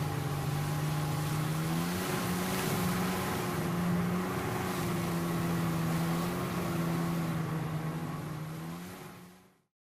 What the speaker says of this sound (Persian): اسکوتر آبی